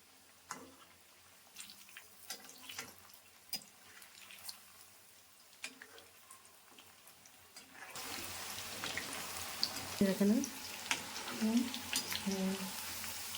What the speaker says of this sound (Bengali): হাই আঁচে দিয়ে এটাকে আমি ভাজছি।